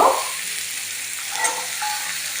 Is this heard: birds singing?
no